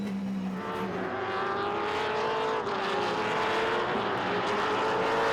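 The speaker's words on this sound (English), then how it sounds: "Let's listen to Rafa's car." A TA2 series race car at World Wide Technology Raceway, its engine note steady and loud throughout, with rising and falling harmonic tones as it runs near, no talk over it.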